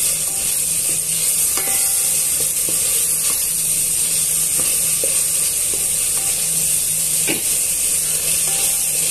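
Ginger garlic paste and masala fry in a hot pan for bagara rice, giving a steady, close sizzle with occasional clinks and scrapes of stirring and no voices.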